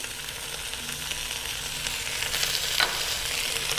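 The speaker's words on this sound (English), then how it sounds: "All right, now we're going to add some onions. Then we'll add some seasoning." Onions and seasoning frying alongside a roast in a pot on the stove, a steady close broadband sizzle with a brief stirring scrape near the end, no voices.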